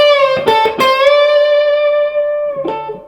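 An electric guitar plays the opening lick of a solo: a few quick picked notes, then a long sustained bent note that rings out, with one more pluck near the end.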